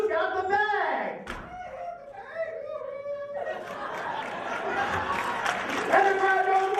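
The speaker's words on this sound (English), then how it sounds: "And the crowd goes wild for him." A live crowd erupts into cheering and scattered clapping that swells and grows denser toward the end. A voice talks over the start of the noise.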